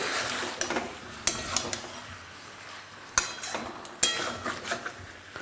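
A spoon scraping and knocking against a pan while spiced potatoes are stirred, with scattered sharp clinks over a soft background hiss and no talk.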